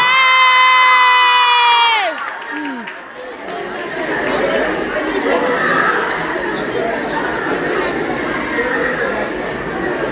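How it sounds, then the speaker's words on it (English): A crowd cheers, whoops and chatters steadily after a round of applause is called for, a loud sustained audience roar with voices mixed through it, following a sung or stretched tonal opening. "Let's give them a round of applause."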